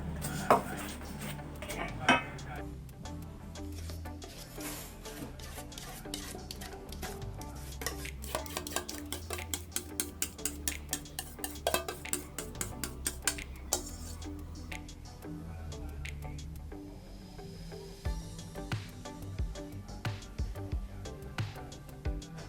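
A taro and coconut mixture being stirred in a pan, the spoon scraping and tapping the metal in a fast, steady rhythm of clicks that runs nearly the whole time, close and clear with no talking.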